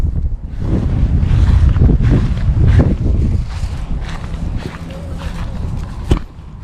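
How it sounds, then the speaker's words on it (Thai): Strong gusty wind buffets the microphone outdoors while a heart-shaped kite is flown, loud rumbling blasts rising and falling, with a few faint footsteps and movements. "โอ้ลมแรงมาก"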